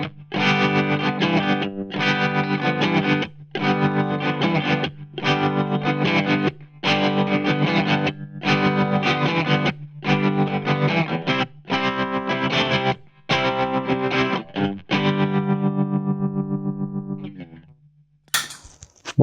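Electric guitar riff played with a tremolo effect that pulses the distorted tone in rapid, even throbs. Repeated phrases are separated by short breaks, loud and close, ending in a brief burst of noise.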